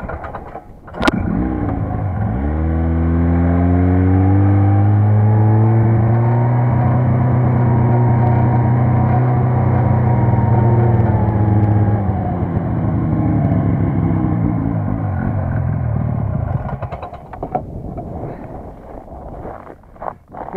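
A Buran snowmobile on a spring fishing trip fires up and drives off. Its engine revs and climbs steadily in pitch for about fifteen seconds, loud and close with wind buffeting, then fades away as it leaves.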